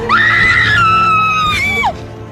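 Loud, close, sustained scream from one voice in a horror movie trailer, rising into a long piercing shriek that breaks briefly and then trails off, with no other talk.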